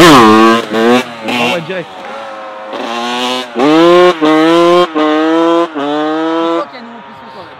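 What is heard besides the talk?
1997 Honda 125cr motorcycle engine revving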